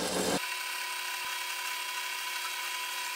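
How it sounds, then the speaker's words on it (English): A power drill bores out the rivets on a bench grinder's switch housing: a sharp burst at the start, then a steady, continuous grinding whine held evenly to the end. "the switch housing is secured with two rivets, so I'll need to drill those out to get inside"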